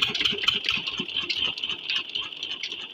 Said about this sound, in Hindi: अभी टाइम लग रहा है वाटर इंजन से ये पानी निकालने में